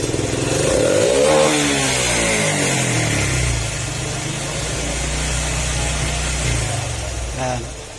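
A motorcycle engine with a freshly cleaned throttle body revs up wildly and falls back, then settles into a loud, rough rumbling idle before easing off near the end.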